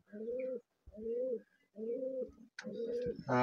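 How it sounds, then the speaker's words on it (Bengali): Pigeons at a home loft coo softly and close by in four rounded, throaty phrases separated by short pauses, with a faint chirp near the end. "কয়েকটা কবুতর উড়াবো এখন"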